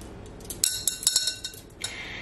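Clear and frosted glass filler gems drop into a glass vase, giving a quick run of bright clinks and taps, close and distinct, with a final scatter of chimes.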